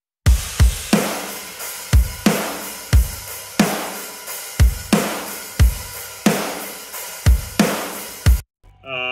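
A simple rock drum beat for a track, with loud, steady kick-and-snare hits and washing cymbals in an even groove, heard alone until the pattern cuts off near the end.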